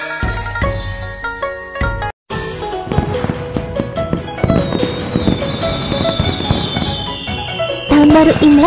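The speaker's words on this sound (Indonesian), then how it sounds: "Ada banyak sekali kembang api." Cartoon fireworks crackle and pop for Chinese New Year in a Baby Bus panda game, bursting over cheerful game music with bright chimes and a rising whistle, with a brief silent gap early on.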